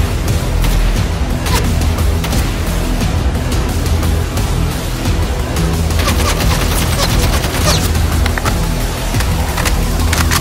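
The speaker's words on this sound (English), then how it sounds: "you can use the haki to fire a single shot or use an automatic shot" Rapid automatic fire from an NZ-41 rifle in a modded Fallout 4, a dense, continuous rattle of shots that stays loud and steady throughout with no talking.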